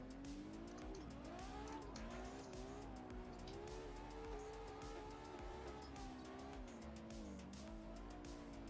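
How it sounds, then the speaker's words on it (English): A car drifting in a racing video game, engine droning at a steady pitch with continuous tire squeal, loud and sustained throughout without a break. "We're doing drifts."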